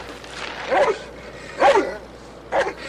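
A dog barks in three short, loud bursts spaced about a second apart over a low background hum, in a sitcom scene set at a junkyard dump.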